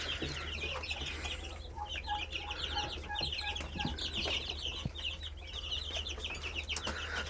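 Young chicks just over ten days old cheep in a steady chorus of high, rapid peeps close by, mixed with clucking fowl and a constant low hum in the background; no one speaks.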